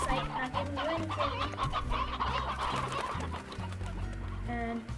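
Chickens in the Slime Rancher video game cluck repeatedly in a dense, continuous run of clucks over a busy game soundscape, with a few brighter cackles near the end.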